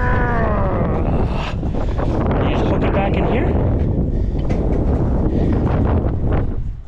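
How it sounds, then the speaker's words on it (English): Strong wind buffets the microphone in a constant, loud low roar throughout, outdoors beside a truck while tarps are rolled over its load, with a person speaking briefly underneath near the start. "Wow, is it ever windy all of a sudden?"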